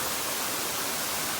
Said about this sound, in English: you'll see this magnificent Devil's Gulch waterfall.